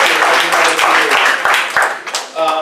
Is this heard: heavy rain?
no